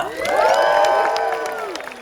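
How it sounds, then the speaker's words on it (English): Audience applauding and cheering at a film premiere event at BFI IMAX for the director of The Fantastic Four: First Steps, a dense, loud, sustained crowd roar with whoops and shouts throughout. "Keep that applause going"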